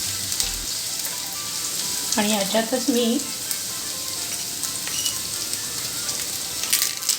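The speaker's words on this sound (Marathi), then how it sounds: "हे आपण थोडंसं फ्राय करून घेऊया" Chopped garlic and whole spices, including bay leaf, cardamom, cinnamon, cloves and peppercorns, sizzle and crackle steadily in hot oil, close and continuous, while someone briefly speaks over the frying.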